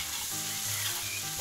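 Bell pepper sizzles in oil in a kazan over a campfire, a steady loud frying hiss with low scraping sounds as it is stirred.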